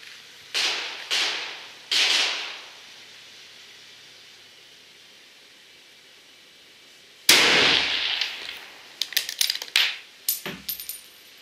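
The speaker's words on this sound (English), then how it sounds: "So that's about how hard it is to shoot a sniper rifle at 220 yards" Sniper rifle shots fired at a target 220 yards away: three sharp cracks in quick succession, a long quiet gap, then a louder crack followed by a rapid run of clattering, metallic impacts.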